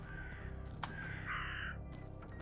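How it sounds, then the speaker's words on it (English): Crows caw several times in the haunted-manor game The Seance of Blake Manor, harsh calls rising over a quiet ambient background. "Crows."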